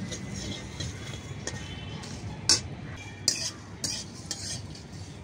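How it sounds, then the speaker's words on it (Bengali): Whole spices dry-roasting in a pan at home, including large and small cardamom, cinnamon, four dried red chillies and two bay leaves, give a low steady rustle with a few sharp clinks and scrapes of a utensil against the pan. "একদম হালকা আছে মশলাগুলোকে ভেজে নেব।"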